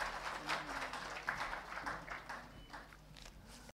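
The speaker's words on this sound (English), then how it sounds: "Please welcome with a round of applause." Faint, distant applause from the audience at a book publishers' inauguration ceremony, a soft steady patter of many hands clapping at low volume, with no speech over it.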